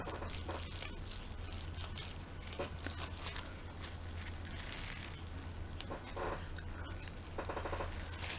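Cling film peeled off an ink-coloured papercraft piece gives quiet, crinkly plastic crackles and short tearing rustles in irregular bursts, close by and soft, with no speech.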